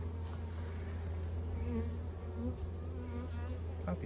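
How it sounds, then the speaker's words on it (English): Dense honeybee buzzing rises from an open hive during an inspection, a steady close-up drone of many bees that holds level throughout with no voices. "It's full of bees"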